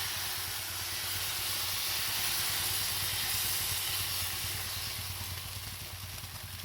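Rava dosa batter sizzles on a hot pan, a steady, bright hiss that holds evenly throughout at moderate loudness, with no voices over it.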